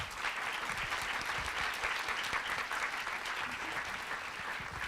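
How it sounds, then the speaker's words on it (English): A conference audience gives a panel a dense, continuous round of applause, heard fairly faintly and evenly throughout with no voices over it. "I want to please give one more round of applause to our wonderful panel."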